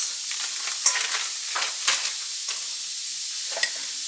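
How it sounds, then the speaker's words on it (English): Onions fry in bacon grease in a pan, a close, steady sizzle broken by crackles and occasional louder pops, heard alone. "I'm going to add a little bit of bacon grease to my pan. And then I'm probably just going to add just about 1/2 cup of onions."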